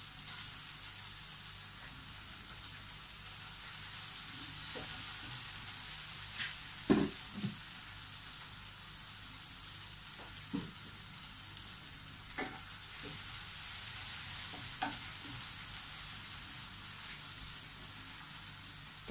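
Green pepper stir-frying for a vegetable omelette gives a steady, quiet sizzle throughout, broken by a few sharp clinks and scrapes of a utensil stirring the pan.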